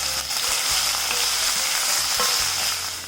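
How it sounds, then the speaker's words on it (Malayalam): Chopped onion frying and being stirred in a pan while cooking soya keema: a continuous, close, bright sizzle with a few soft scraping stirs, and no voices. "ഈ സവാള ഇട്ടിട്ട് ഇളക്കി കൊടുക്കണം."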